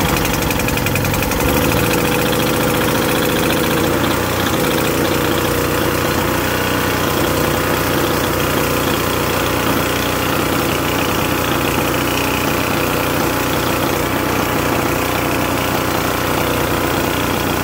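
Gasoline generator engine running on choke after starting, a loud, close, steady chugging drone that continues unbroken throughout.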